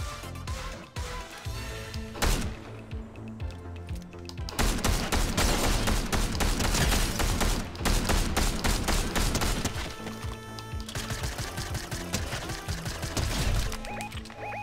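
Rapid bursts of DMR gunfire in Fortnite, loud and dense, with repeated shots rattling through most of the stretch.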